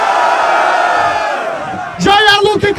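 At a Brazilian trio rap battle event, a crowd roars with a sustained wash of loud cheering, then a voice shouts over the noise near the end.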